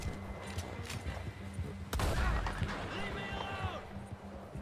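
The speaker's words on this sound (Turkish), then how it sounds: "Atına ateş ediyorum." Gunfire in the Red Dead Redemption 2 video game: a single sharp shot cracks near the middle, followed by a horse's hoofbeats and the game's ambient sounds, with someone talking over it.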